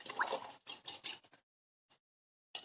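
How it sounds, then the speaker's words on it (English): A paintbrush is rinsed in a water cup, with a few close sloshing, swishing bursts separated by silence and a faint drip between them. "So now I'm going to rinse off my brush completely."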